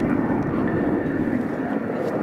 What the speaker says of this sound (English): now we've switched to the next in the line, the BAC 167 Strikemaster